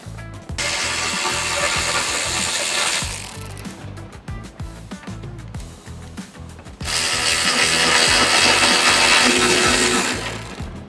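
10mm screws being removed from the fender of a 2018 Toyota RAV4, with bursts of a power driver or ratchet whirring and clicking close up, separated by a quieter stretch of rapid mechanical clicks.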